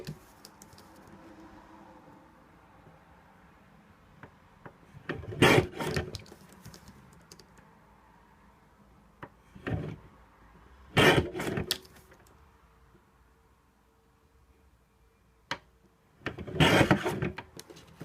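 Laminated jewelry cards are cut in several short bursts of crisp snipping and crunching, close up, separated by quiet pauses with faint handling noises.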